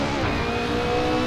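A race car engine in Assetto Corsa revs hard and rasping under full acceleration, a brief, loud, close burst of harsh engine tone.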